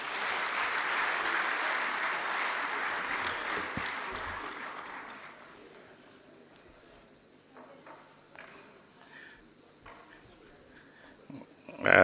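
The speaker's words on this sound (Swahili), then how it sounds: "Makofi tena mengi." Loud, dense applause from a large audience at a state ceremony where the president receives public enterprise dividends, filling roughly the first five seconds before fading to a quieter room with scattered noise and a sudden burst at the end.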